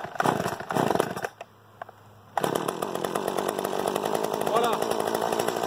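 Chainsaw being pull-started on the ground: a few rough cranking bursts, a short near-silent pause, then the engine catches and settles into a loud, steady buzzing idle close by, with a brief word spoken over it.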